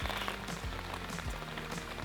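Rain falling outdoors in the mountains, a steady close patter of drops on surfaces with no voices, heard during an outdoor barbecue pizza-oven session.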